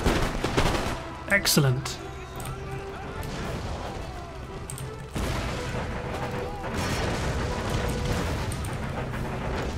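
Massed musket volleys from frontiersmen firing on a garrison line in Empire: Total War, during the sack of Madrid, a dense crackle of shots rolling under steady battle noise while someone speaks briefly.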